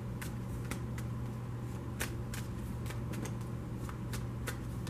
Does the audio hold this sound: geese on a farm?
no